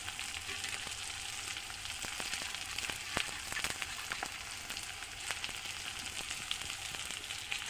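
Chopped ginger and chili sizzling in hot oil in a pan, a steady bright hiss dotted with sharp crackles and pops, close and continuous, with no talking.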